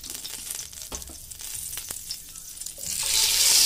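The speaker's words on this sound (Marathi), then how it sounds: "मित्रांनो, तेल तापलेलं आहे. आता आपल्याला त्याच्यामध्ये खाली थोडासाच मसाला त्याच्या खाली टाकायचा आहे." Spiced masala sizzles and crackles in hot oil while making veg biryani, a steady close frying hiss with a few sharp pops that grows louder and brighter toward the end.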